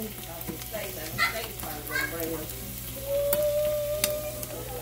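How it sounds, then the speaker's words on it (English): Steamed spinach is dumped from a bag into a hot pan and sizzles, with steady frying hiss and a few sharp pops and clatter, while faint voices and background household noise sit underneath. "I'm going to dump this spinach right out of the bag into the pan"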